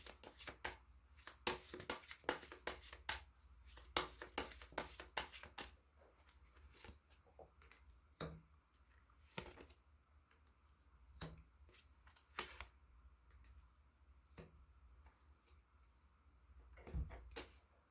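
Tarot cards being shuffled, a quick run of crisp riffling flicks at first, then slower scattered taps and slides as cards are drawn, close and quiet, with no talking.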